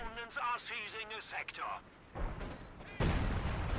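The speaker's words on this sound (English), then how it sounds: "Outer barrage coming on in." An artillery barrage in Company of Heroes 2 lands among enemy squads after a stretch of speech, with rumbling blasts and booming impacts building up loudly near the end.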